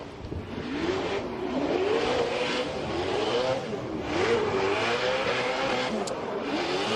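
Matt Field's drift car screams through a recon lap at Formula DRIFT Montreal, the engine rising and falling steadily as it holds revs, loud and continuous under faint crowd and tire noise.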